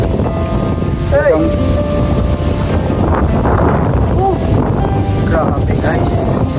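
Strong wind at sea buffeting a riding boat, a loud continuous roar with a deep low rumble beneath it, and brief voices calling out over the noise.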